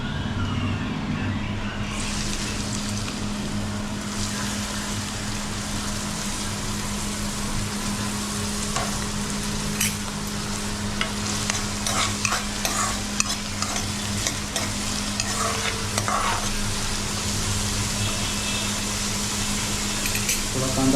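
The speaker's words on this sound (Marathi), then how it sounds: "आता तेल टाकून तेल गरम झालेलं आहे तर आम्ही कांदा टाकून घेतो त्याला" Onion sizzling and frying in hot oil in a kadhai on a gas stove, a continuous bright crackling hiss with occasional stirring scrapes, close and steady, with no talk over it.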